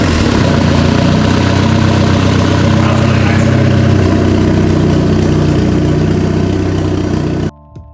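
A turbo kart's engine runs steadily at idle, a loud, continuous low rumble with a mid-range drone that holds for over seven seconds before cutting off abruptly.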